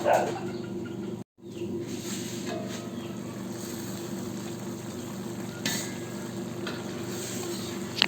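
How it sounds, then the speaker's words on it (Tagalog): Chicken adobo simmers covered in a pan, giving a steady, close sizzle and bubbling that runs on without a break apart from one short dropout, with a few faint clinks. "Takpan at lutuin pa natin ito ng 2 minuto"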